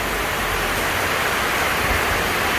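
Steady rain pours down in a light wind, a constant broadband wash that stays even and fairly loud throughout with no talk over it.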